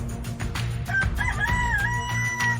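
A rooster crows once over a steady low background hum, its call rising and stretching out clearly for a couple of seconds.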